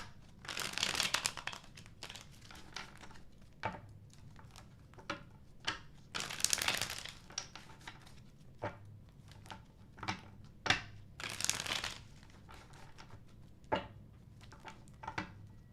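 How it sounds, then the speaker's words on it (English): Tarot cards being shuffled by hand, a run of soft riffling and crinkling bursts with sharper taps between, close up and fairly quiet, continuing for about fifteen seconds with no talking. "I'm going to go ahead and shuffle for the super chat questions."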